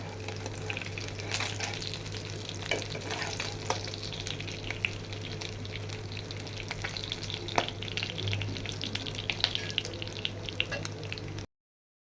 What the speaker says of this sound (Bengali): আরও যে বাকি দুটো মাছ আছে সেটাও ভেজে নেব সুন্দরভাবে